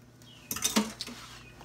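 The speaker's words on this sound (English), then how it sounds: "Let me get a spoon." A metal spoon being taken from a cutlery drawer in a home kitchen: a short cluster of close, bright clinks and rattles of silverware lasting under a second, then quiet.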